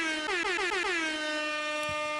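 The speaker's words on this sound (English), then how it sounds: "Let me give you the air horn." A single air horn sound effect blares once, loud and close, with a quick stuttering start that settles into a sustained blast for about two seconds.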